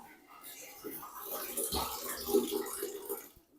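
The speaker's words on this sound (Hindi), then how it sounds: "फिलहाल मैं अभी कपड़े धो रही हूँ" Clothes being washed by hand with water, with soft splashing and sloshing that swells toward the middle and fades at the end, quiet and close.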